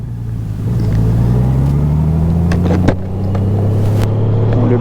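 A Honda Goldwing 1800 DCT motorcycle rides past at close range, its engine droning steadily and pitch rising with speed, with a couple of brief clunks as it brakes.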